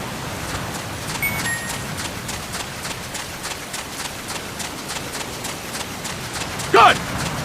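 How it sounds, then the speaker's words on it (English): Running footsteps in the Metal Gear Solid PSP video game tap out a quick, even rhythm of light steps across the whole stretch, with a brief louder sound near the end. "Remember that your footsteps are louder when running, making you easier to discover."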